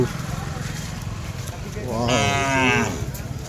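A single loud, drawn-out moo from a pair of tethered calves at a village fair rises out of steady outdoor background noise, close by and lasting about a second.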